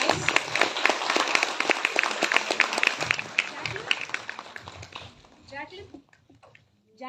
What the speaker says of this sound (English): Round of applause, guys.